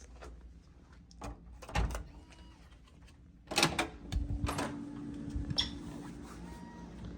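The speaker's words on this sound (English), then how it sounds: "this door lock actually has an automatic deadbolt" An automatic deadbolt on a hotel room door lock at the Radisson Lackawanna Station Hotel clicks and clunks through several separate mechanical knocks and a louder motorized throw, close and fairly loud, with no talk.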